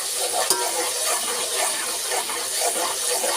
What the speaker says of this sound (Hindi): ये अदरक लहसुन का पेस्ट और हरी मिर्च डालेंगे और इसको हम थोड़ा सा पकाएंगे।